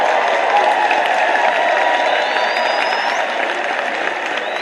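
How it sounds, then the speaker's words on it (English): Sustained applause from a large crowd at a convention evening event in South Africa, steady and loud, with a few faint whistles rising above the clapping. "Give yourselves a round of applause here."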